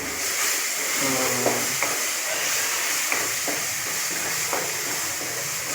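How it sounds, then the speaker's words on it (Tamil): Chicken sautéing in oil with spice paste for a village-style country chicken curry, giving a steady close frying sizzle and hiss with a few soft stirring knocks, no talk. "இப்படி இந்த விழுதுகளில் போட்டு எண்ணெய் ஊற்றி வதக்கி அதுக்கு பின்னாடி இந்த சிக்கனை போட்டு"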